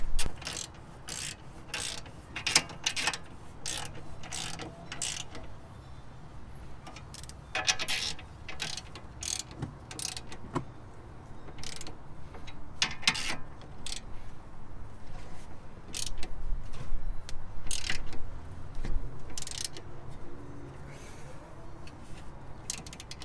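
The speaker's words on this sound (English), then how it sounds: "Alright, then we just torque these to 65." A torque wrench tightens the bolts of a Tork control arm brace on a Hyundai Veloster N. Repeated bursts of sharp ratcheting clicks come close up, with pauses between them and no talk.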